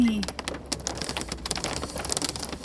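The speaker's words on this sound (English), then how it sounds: "It's so rainy." Rain falling on a campervan in the Scottish Highlands in winter, a dense patter of drops tapping on the roof and surfaces, close and steady, with brief speech.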